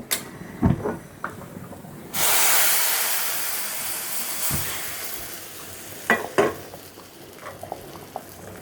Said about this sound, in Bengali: সুন্দর লাল লাল করে বাজা হয়ে গেছে এবার আমি ডাউলের মধ্যে দিয়ে দিচ্ছি